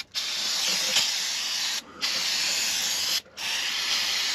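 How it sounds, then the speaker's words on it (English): Brake cleaner hissing from an aerosol can onto greasy parts of a Dodge Ram Cummins diesel truck, in three steady close bursts with two brief gaps between them. "I'm gonna clean this off with a little brake cleaner so we hopefully won't be so dirty"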